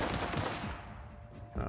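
Bursts of rapid gunfire from a fight in The Outer Worlds crackle in quick succession, loud and close at first, then thin out before another burst at the end.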